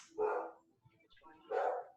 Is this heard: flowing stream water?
no